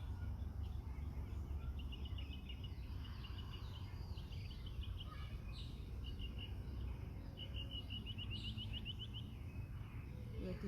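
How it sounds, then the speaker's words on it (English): Birds sing faintly in a park during an outdoor yoga session, with scattered chirps and short trills over a constant low background rumble and hiss, distant and quiet throughout. "And we breathe here and listen to birds."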